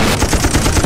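Dense gunfire from a gangster action film, a rapid burst of loud shots packed tightly together in a brief, close volley.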